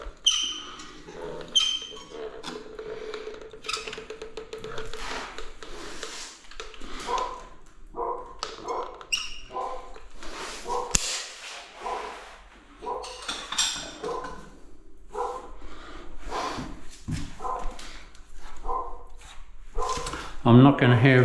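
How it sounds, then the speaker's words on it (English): A dog barks in short bursts with yips and whimpers during a home silicone job, the barks mixed with clattering and a person talking nearby. "What's the dog barking at?"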